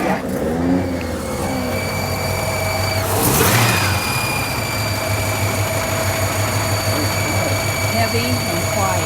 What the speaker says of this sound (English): They're gonna start the engine.